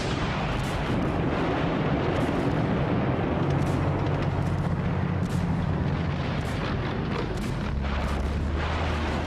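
A massed Soviet World War II artillery barrage rumbles continuously, with heavy overlapping booms and blasts blending into a dense, roaring wall of gunfire that never lets up.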